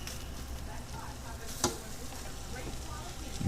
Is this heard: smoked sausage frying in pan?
yes